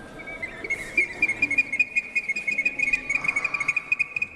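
A high, steady whistling tone with rapid chattering pulses layered over it, like shrill monkey calls coming from an ancient Inca whistling water vessel, close and fairly quiet.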